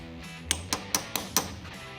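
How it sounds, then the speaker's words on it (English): Five sharp metallic hammer strikes peening metal over with a punch ring out at an even pace, each a bright clink on metal, close by and isolated. "we're going to use our nifty hammer and we're going to peen it over"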